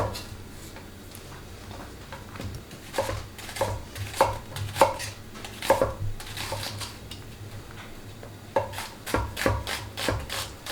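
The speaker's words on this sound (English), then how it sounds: "Trim the roots and the ends of your yellow onions and julienne them, following the natural lines of those onions" Knife chopping yellow onions into julienne strips on a board, a run of quick, close knocks in uneven bursts, steady taps rising to louder clusters with short pauses between.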